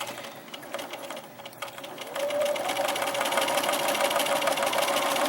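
Sewing machine stitching through a quilted hot pad with batting, a steady mechanical whir that starts moderate and runs faster and louder after about two seconds, continuing without talk.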